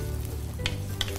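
Shallots fry in a pan with a constant close sizzle, two brief louder crackles breaking through the steady hiss.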